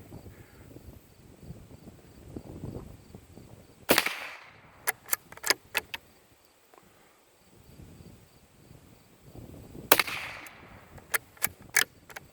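Two sharp reports from a Norinco JW45 .22 bolt-action rifle ring out about six seconds apart outdoors. Each is followed by several lighter metallic clicks, with crickets faintly audible in between.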